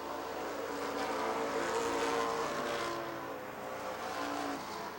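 Stock cars roar around Rockford Speedway in 1996 championship night racing, a dense, steady engine drone with pitch shifting as the field passes, loud and continuous without speech.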